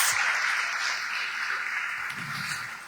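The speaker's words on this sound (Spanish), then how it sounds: "por qué no le damos un aplauso al Señor" Soft applause from a church congregation, an even wash of clapping heard at a moderate distance that continues steadily and fades slightly toward the end.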